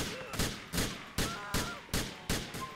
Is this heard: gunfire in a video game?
yes